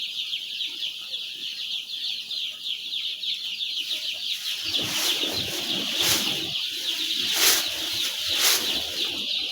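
Thousands of brooding chicks in a poultry shed chirp in a steady high chorus, then break into bursts of running and wing flapping that rise and fall over several seconds.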